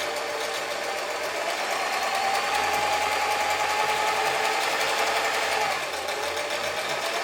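A German-made Singer 720 sewing machine stitches bar tacks with a steady, fast mechanical whir and rattle that runs close and unbroken.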